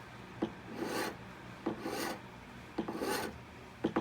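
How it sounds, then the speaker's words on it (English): A file rasps against a wax ring band in short repeated strokes, four quiet scraping passes spaced about a second apart, close and alone. "I'm turning the wax as I'm filing"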